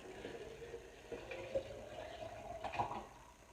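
Sanitiser liquid pours and trickles softly into a container at a kombucha brewery, a faint gurgling stream with small splashes, quiet and close.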